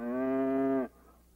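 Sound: cow mooing

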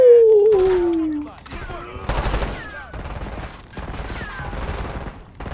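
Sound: gunfire in Call of Duty Black Ops 6 video game

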